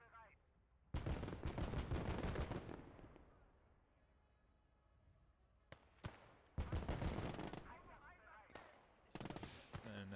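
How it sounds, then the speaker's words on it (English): Anti-tank rifle and machine-gun fire in the Gates of Hell war game, with loud clustered bursts of shots and sharp single reports that break up quieter stretches, heard alongside in-game battle noise. "That's an AT rifle somewhere"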